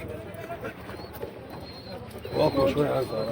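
Pigeons coo softly at a bird market in Mosul amid a busy background of chatter and bird calls, with a louder burst of cooing toward the end.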